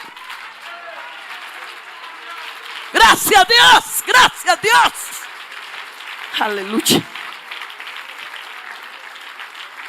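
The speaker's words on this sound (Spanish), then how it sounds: "dale un aplauso a la gloria" Applause breaks out during a Spanish-language evangelical church service, several loud bursts of clapping and cheering in the middle, mixed with shouted praise and speech over a steady room murmur.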